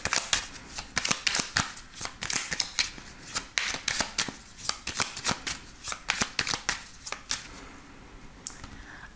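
A deck of oracle cards is shuffled by hand, giving rapid, crisp riffling bursts in a steady repeated rhythm, close and clear with no talking.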